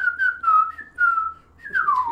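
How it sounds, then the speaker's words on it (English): A person whistles a wavering tune in several phrases with short gaps, clear and fairly close, alone without speech during Super Mario World play. "Can you not whistle?"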